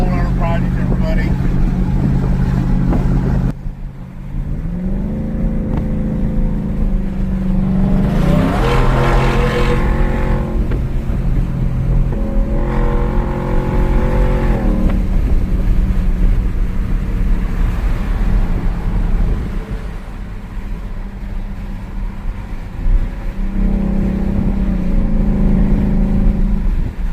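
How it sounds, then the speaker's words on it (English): A Porsche race car engine revs and pulls away in several loud, rising bursts, its tone climbing through the gears, with someone talking between and over the passes. "He's got his Porsche race car."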